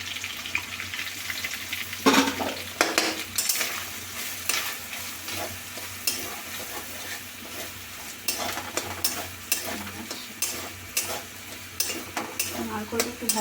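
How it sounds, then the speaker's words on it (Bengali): Grated coconut frying in a pan, a continuous sizzle under repeated spatula scrapes and metallic clinks as it is stirred, close and fairly loud. "তারপর দিয়ে দেবো নারকেল"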